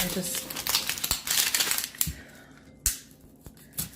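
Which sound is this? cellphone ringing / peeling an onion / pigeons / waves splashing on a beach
peeling an onion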